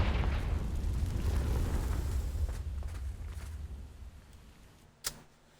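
A Confringo fire spell explodes in Hogwarts Legacy, a deep rumbling blast that fades slowly over several seconds, ending in a short sharp pop.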